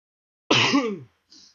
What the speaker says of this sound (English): I got the sneeze out in the end.